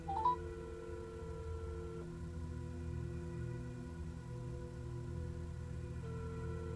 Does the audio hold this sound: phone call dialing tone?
yes